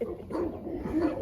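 Dogs at the Avalonia stud kennel give a few short barks and whimpering yips, fairly close and moderately loud, with no talk over them.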